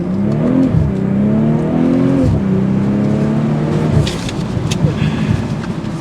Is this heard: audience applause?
no